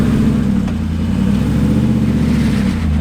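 A Jeep engine on a trail in two-wheel drive with the rear locked, a steady close, loud mid-pitched drone with a slight revving swell and no talk.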